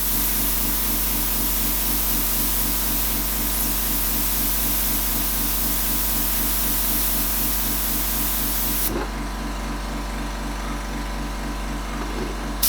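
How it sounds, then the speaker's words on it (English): An airbrush sprays a fine mist of paint onto a Reaper miniature, giving a steady close hiss that runs evenly for several seconds with a low compressor hum beneath, then cuts off abruptly, leaving only faint background noise. "I'm now gonna just mist it a bit more"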